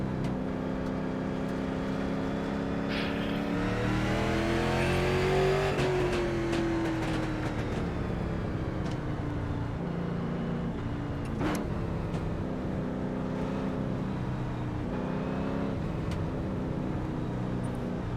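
Late model race cars racing at Lanier National Speedway in the iRacing sim game, a steady loud engine roar with rising and falling revs as cars accelerate and pass, continuous, no talk.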